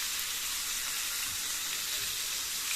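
Tandoori chicken pieces sizzle steadily in a hot pan on a home stove, a continuous bright frying hiss with no pauses, close and moderately loud with no talking.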